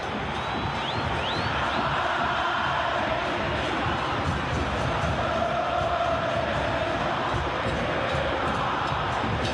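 Packed football stadium at an Argentina vs Brazil World Cup qualifier, fans roaring and chanting in a steady, massive wash of sound, with a few sharper cheers and whistles poking through near the start.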